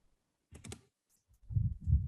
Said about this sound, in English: You have to be very careful while typing the code.